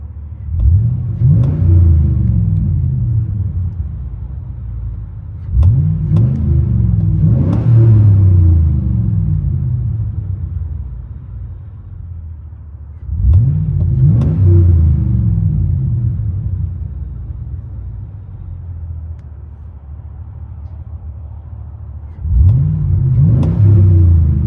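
Chevy Silverado SS with a 6.0L V8 and carbon R exhaust, heard from inside the cab: four loud, close revs that surge up and fall back to a deep rumbling idle, with no talking.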